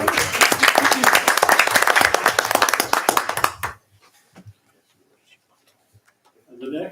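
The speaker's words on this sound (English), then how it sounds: "round of applause for them" Applause for a nominee at a Kill Devil Hills Board of Commissioners meeting: a burst of dense hand clapping fills the room for about three and a half seconds, then cuts to near silence with faint stray sounds.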